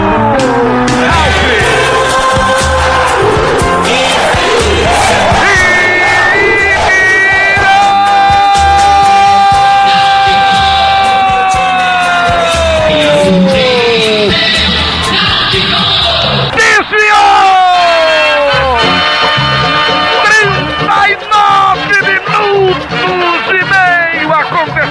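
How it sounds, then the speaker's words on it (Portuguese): Football stadium crowd roaring after a goal by Náutico against Corinthians in the 2012 Brazilian championship, a loud, sustained surge of cheering under an excited commentator shouting throughout. "Vai ao delírio a torcida do Náutico!"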